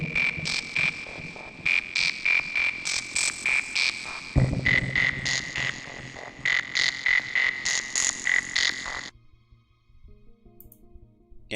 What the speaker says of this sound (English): This kind of sounds like frogs.